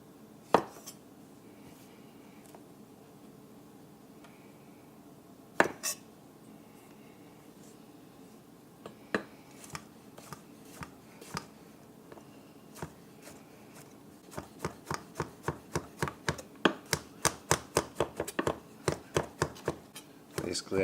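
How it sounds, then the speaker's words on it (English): Garlic being chopped with a knife on a cutting board: sparse single thuds at first, then a fast, crisp run of rhythmic knife taps near the end, close by with no talking. "I'll go ahead and chop up the garlic and spread some thyme on the cutting board"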